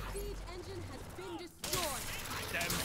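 Gunfire in the team shooter Paladins during a siege match, a quiet burst of shots that lands under game effects and chatter, then a sudden louder stretch of rapid firing in the second half.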